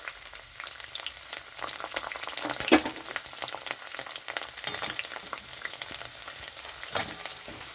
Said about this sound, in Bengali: এখানে রসুনটা একটু ভাজা হয়ে গেছে,